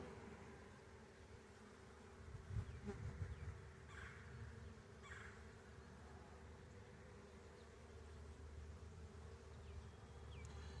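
Honey bees hum and buzz softly around an open hive during an inspection of a newly installed package colony, a faint continuous drone with occasional closer individual bees passing by.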